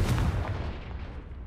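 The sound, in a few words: Confringo fire spell blast in a video game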